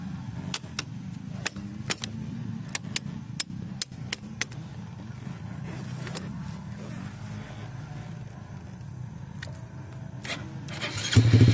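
A Honda MSX motorcycle converted into a dirt bike for a dusty enduro trail, its engine running with a steady low rumble and a few sharp clicks and knocks, growing louder at the very end.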